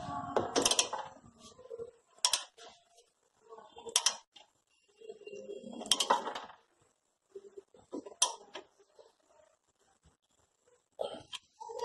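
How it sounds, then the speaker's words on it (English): A 12 mm socket on a ratchet tightens the brake caliper bolt of a Hyundai i10, giving several short bursts of metallic clicking and ratcheting separated by quiet pauses, close up. "Now again we have to use the 12 mm socket to tighten it."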